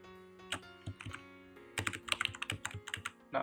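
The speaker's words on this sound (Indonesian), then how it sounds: "Saya pakai keyboard aja." Quick bursts of keystrokes on a computer keyboard, close and fairly soft, with a faint steady hum underneath.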